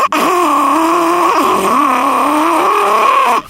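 A voice mimics a carburetted 1970s rally car engine like a Lancia Stratos or Ford Escort Mexico, a sustained buzzing drone with wavering pitch for about three seconds.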